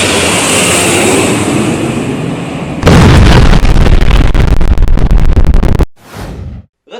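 A plane crash explosion effect: a sustained roaring rush breaks into a sudden, very loud blast with crackling debris, then cuts to a brief, fading rumble.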